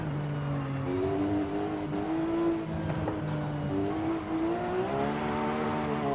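A Porsche 911 in the racing video game Forza Horizon 5 revs hard as it is floored up a hill and thrown into corners, the engine note rising and dropping with gear changes and throttle lifts, loud and continuous.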